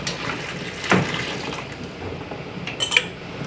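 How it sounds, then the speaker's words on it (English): Homemade chili sauce poured into a glass jar, a soft liquid filling sound with a brief louder splash, quiet glassy clinks near the end, close and fairly faint. "And just start filling up your jar."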